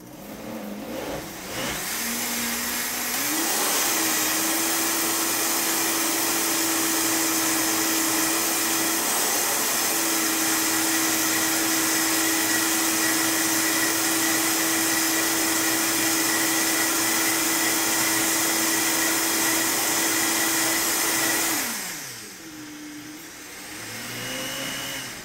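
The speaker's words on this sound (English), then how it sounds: "I happen to already have a Vitamix before I started doing green smoothies, so that's what I use." Vitamix blender blending a purple banana smoothie, a loud steady motor roar with a sustained whine that ramps up at the start, holds for nearly twenty seconds, then winds down and stops.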